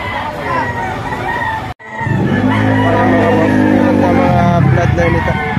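Roosters crowing nearby, fighting-cock birds of a Boston and Golden Boy bloodline, one long full crow rising out of steady background chatter, with a voice talking over much of it.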